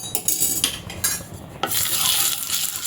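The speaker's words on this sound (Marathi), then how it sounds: "आता आपण असं दुसरं धिरडं घालून घेऊया थोडंसं तेल घालायचं आहे" Oil and jowar flour chilla batter sizzle steadily in a hot pan, a hiss that swells louder partway through, with faint clinks of utensils and stirring; no one speaks.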